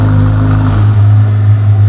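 A car engine with its key-switched valved exhaust opened revs loudly and close by, a deep throaty drone that drops in pitch partway through and settles into a rumbling idle.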